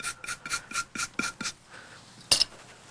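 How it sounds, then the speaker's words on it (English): Brisk scrubbing on stained blouse fabric treated with ammonia, a series of about eight quick raspy rubbing strokes in a steady rhythm, close and fairly soft, ending with one sharper scuff after a pause. "Well, we can give it a little scrub."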